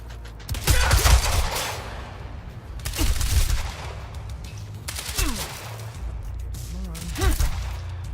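Bursts of gunfire in the video game Quantum Break, rattling volleys arriving in three or four loud waves over a low rumbling background, with a shouted voice among the shots.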